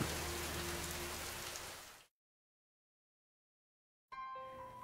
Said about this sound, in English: Soon the sky grew dark with clouds, and God sent rain.